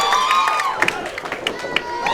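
Hometown San Diego crowd at an independent pro wrestling match, cheering, whooping and clapping in bursts with scattered shouts, fairly close, mixed with excited voices.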